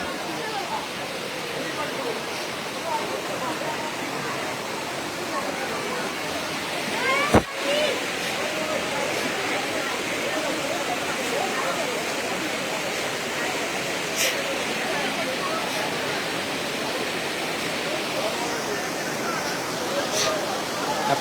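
Floodwater from Mizoram rushing through Gudamghat, a steady broadband roar of flowing water with a brief sharp knock midway and faint voices underneath.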